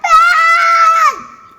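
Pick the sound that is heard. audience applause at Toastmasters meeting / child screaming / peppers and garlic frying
child screaming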